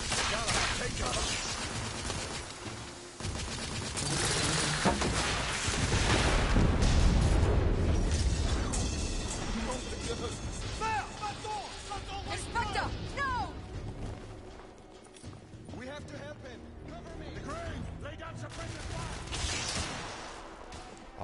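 Gunfire and booming bursts in The Order 1886, a steampunk shooter, with repeated loud shots and blasts in a running fight while voices talk and shout over the action.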